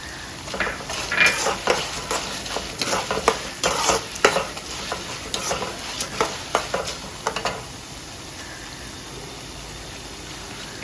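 Cashews frying in a pan with lentils and dried chillies while a spoon stirs them, giving close, irregular scraping and clinking strokes over a soft sizzle that settles into a quieter sizzle near the end.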